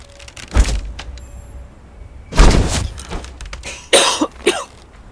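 A character in the game Conan Exiles coughs in a few loud, harsh bursts separated by short pauses, with a thud and some faint clicks between them.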